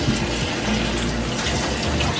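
Tap water runs steadily as two heaping cups of freshly picked blueberries are washed under a faucet, a continuous close splashing flow with no talk.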